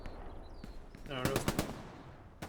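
A short burst of rapid gunfire rattles off in a Hell Let Loose match, several quick shots in a cluster midway, with a lone distant crack near the end.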